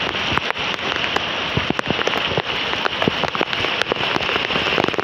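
Heavy rain falls across Dhaka city, a loud continuous roar of drops drumming on surfaces, dotted with sharper splashes and pattering hits close by.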